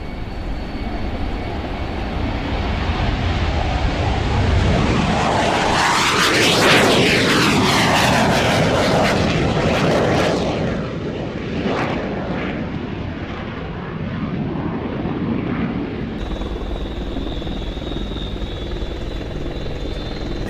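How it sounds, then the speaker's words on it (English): A NATO AWACS aircraft with old engines flies overhead, a loud, sustained roar that swells and sweeps past with a shifting whine, then settles into a steady distant drone. "The NATO AWACS."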